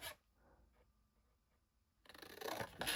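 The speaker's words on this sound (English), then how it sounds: "Using the biggest scissors ever." Very large scissors cut through card in a quiet room, a soft snip early on, then a louder crisp slicing stroke near the end.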